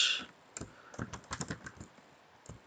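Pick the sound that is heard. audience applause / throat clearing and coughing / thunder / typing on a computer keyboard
typing on a computer keyboard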